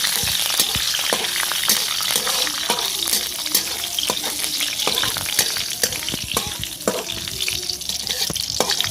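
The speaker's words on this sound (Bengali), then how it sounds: "এবার আমি কারি পাতাটা দিয়ে দেবো" Curry leaves hit hot oil in a pan while cooking egg tadka, setting off a loud, close, continuous crackling sizzle with sharp spatters throughout and no talking.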